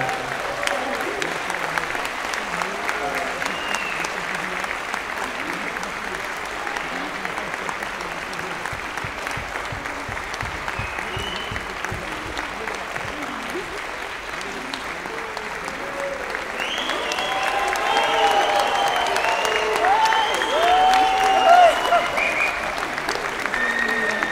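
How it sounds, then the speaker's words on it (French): Applause from the crowd at a boxing event sounds as an award is handed out in the ring, steady and moderately distant, swelling louder toward the end with scattered cheers and a whistle. "Et sous vos applaudissements,"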